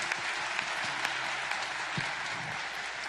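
A church congregation claps louder on request, producing a sustained, dense crowd applause that stays even throughout with occasional crisp individual claps.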